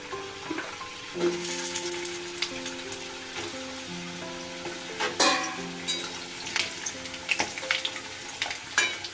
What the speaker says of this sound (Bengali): প্রথমে আমি আলুর টুকরোগুলো ভালো করে ভেজে নিই।